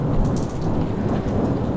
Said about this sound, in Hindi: बस सुनसान बिजली कड़क रही है